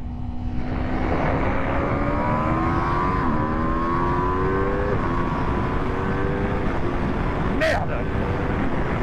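An Aprilia RSV4 2025 superbike accelerates hard at full throttle. Its engine note climbs steadily through several quick upshifts over heavy, constant wind rush, loud and close throughout.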